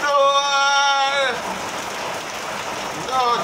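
Rain falls steadily as a broad hiss between bursts of harmonic voices at the start and the end, a family watching the downpour at home.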